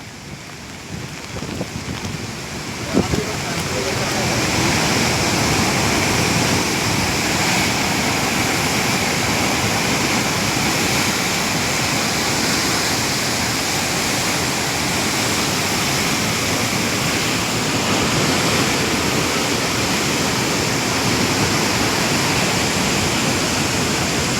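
Floodwater rushing through Pathankot, a loud, steady broadband roar of torrential flow that swells in after a few seconds and continues unbroken and close.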